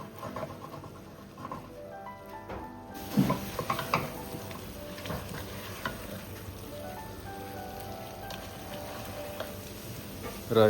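Diced tomato and vegetables for sambhar sizzle and are stirred in a pan, a soft steady frying hiss with occasional scraping clatters and no speech.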